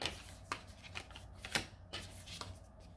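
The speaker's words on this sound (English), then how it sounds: "That's usually not how I get the cards, but they fell out." Tarot cards slip from a deck and drop in a series of soft, quiet papery flicks and taps, a handful of separate light impacts spaced irregularly over a few seconds.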